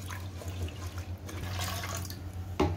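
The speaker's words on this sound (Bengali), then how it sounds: "এবার জল দিয়ে ভালো করে ডালটা ধুয়ে নেব, নোংরাটা যাতে ছেড়ে যায় ডালের থেকে।" Lentils for palak dal are rinsed in a bowl with running water, giving a close, soft splashing and swishing with small trickles and one brief knock near the end.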